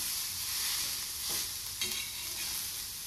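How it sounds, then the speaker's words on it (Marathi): Onion petals fry on a high gas flame: a loud, steady, close sizzle fills the pan, broken by a couple of brief stirring scrapes. "तर अजून 1-2 मिनिटासाठी मी कांदा भाजून घेते"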